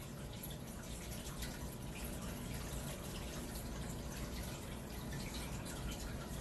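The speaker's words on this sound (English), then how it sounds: "Sorry about the aquarium sounds." Aquarium water bubbling and trickling continuously in a quiet indoor room, a steady close wash of burbling and dripping with no pauses.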